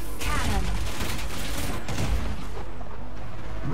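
Rockets and cannon fire from the Wipeout 2048 racing game on a carrier ship course, a dense, continuous barrage of booms and blasts with engine roar, loud throughout with no pauses.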